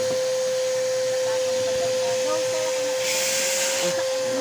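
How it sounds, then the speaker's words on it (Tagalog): A vacuum cleaner motor runs steadily with a high whine and airy hiss, the hiss surging louder briefly near the end. "try na natin yung nagawa natin ng vacuum man"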